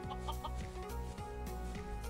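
A chicken clucks in Minecraft with short, bright pecking calls over a steady, tonal game music bed. The clucks come in a few quick bursts, moderately close, and no one speaks.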